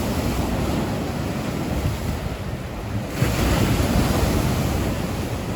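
Stormy sea waves crash and surge along the Yalta embankment at night, loud and continuous with heavy wind buffeting the microphone and a swell rising near the end.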